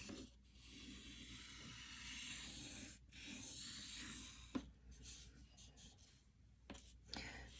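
Pencil drawing lines on paper for a neurographic self-portrait, soft scratchy strokes repeating close by, faint and quiet with brief pauses between lines.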